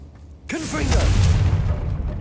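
A Confringo explosive spell blast in Hogwarts Legacy bursts in abruptly after a quiet moment as a loud, rumbling boom with whooshing texture, while brief game sounds and vocal effects overlap the blast.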